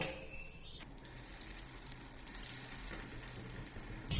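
Soya chunks sizzle in hot oil, a faint, continuous crackling fry with a few brief sharper spatters and no voices.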